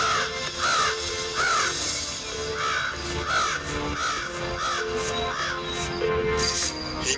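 A crow caws again and again in steady, evenly spaced harsh calls, loud and near, eight or so in a row over a continuous background hum.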